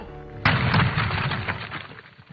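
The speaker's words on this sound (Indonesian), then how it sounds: "satu sisanya justru melarikan diri sambil melempar granat" A sudden loud blast from a grenade in an action film, followed by a rumbling, crackling tail with rapid gunfire shots fading over about two seconds.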